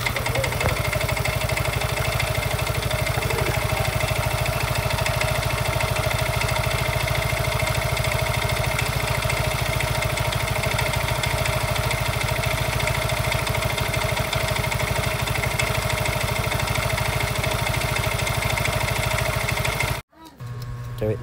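A Yamaha Mio i 125 scooter engine runs close by at a steady, even pace with little change in speed. It cuts off abruptly near the end.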